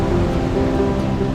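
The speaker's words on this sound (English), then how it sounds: "the roar of the river gets louder and louder" A river roars near Baranof Warm Springs in Alaska's rainforest, a loud, constant rushing wash of water with no breaks and no voices.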